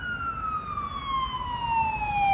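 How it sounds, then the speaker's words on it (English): Fire truck siren on a Toronto street in North York, a clear wailing tone sliding steadily downward as the vehicle passes, loud and close over traffic rumble. "Oh, there's a fire truck."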